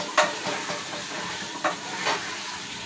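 Goat meat and bone marrow pieces for nihari are stirred in a pan, with sizzling under a few sharp scraping strokes of the spoon at moderate volume and no talking.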